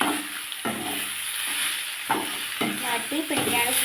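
Soya balls frying in a pan are stirred, giving a steady loud sizzle punctuated by several sharp scraping strokes of the spoon at an uneven rhythm, close up.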